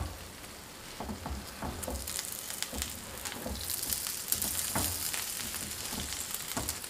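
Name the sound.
sesame paste flatbread pan-cooking under a lid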